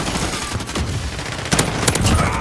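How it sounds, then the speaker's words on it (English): Sentry gun in Call of Duty: Modern Warfare firing rapid bursts of automatic gunfire, loud and close, with a denser volley in the second half. "Friendly sentry gun deployed."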